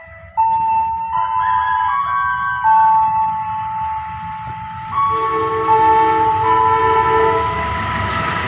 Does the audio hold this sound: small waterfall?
no